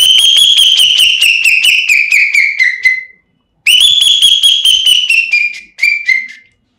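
A finger whistle mimics a calling bell in a mimicry performance, giving two loud, close bursts of rapid, shrill trilling notes that slide slightly downward, separated by a short pause.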